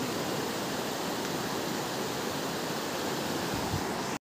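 Heavy rain falls outdoors by a river in a constant, loud, close wash of hiss that cuts off abruptly at the very end.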